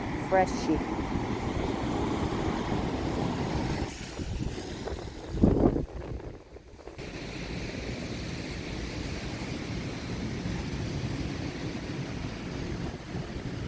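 Constant wind blows across the microphone near the sea, a broad steady rush with a brief louder gust in the middle.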